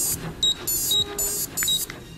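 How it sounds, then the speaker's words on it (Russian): A Tamagotchi virtual pet, an egg-shaped keychain toy, gives a run of short, high-pitched electronic beeps. About five bursts come in a quick, uneven rhythm over a low background hum. "Капризные карманные животные то и дело пищат."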